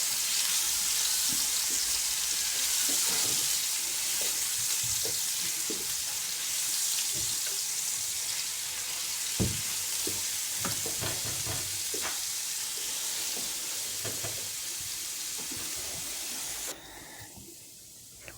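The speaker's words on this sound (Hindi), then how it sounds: "और अच्छी तरह से इन्हें फ्राई करेंगे।" Cumin and ginger garlic paste frying in a pan, giving a loud steady hiss of sizzling oil with scattered stirring clicks, the sizzle dropping suddenly near the end.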